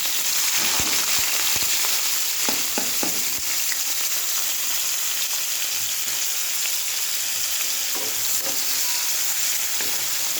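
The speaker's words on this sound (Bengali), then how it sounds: "পেঁয়াজটা ভাজবো, তেলটা গরম হোক" Onions frying in hot oil in a wok give a loud, steady sizzle throughout, broken by a few faint clicks and scrapes.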